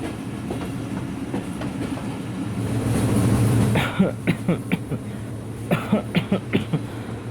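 Kapotaksha Express, hauled by locomotive No. 6602, rolls along the line: a steady low rumble builds, then gives way to a clear rhythmic clatter of wheels over rail joints, close and fairly loud, with no voices.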